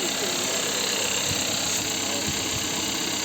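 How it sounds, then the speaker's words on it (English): A Kia Sportage Mk4 turbocharged direct-injection engine idles steadily up close, a constant low rumble with faint rhythmic ticking and a high whine above it. "see what is the engine noise."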